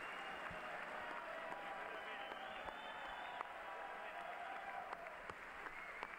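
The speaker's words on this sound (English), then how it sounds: "Now they're clapping at each other." Sustained applause from a large audience at the State of the Union address, a dense, steady wash of clapping heard faintly and at a distance, with crowd murmur mixed in.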